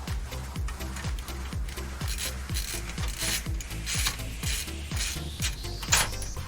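Screws being driven into a PC case during a gaming PC rebuild, giving a steady run of close, rapid ratcheting clicks and grinding turns, loud and continuous with no talking.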